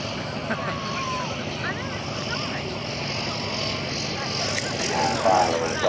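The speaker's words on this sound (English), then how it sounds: "He touches down with the tail held up." A WW1 triplane propeller aircraft touches down with its tail held up, its engine a steady, fairly distant drone under a commentator talking continuously.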